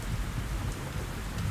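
Rain in a Gazelle helicopter flight simulator game, a steady, dense downpour drumming on the airframe, loud and close with a low rumble beneath, unbroken throughout.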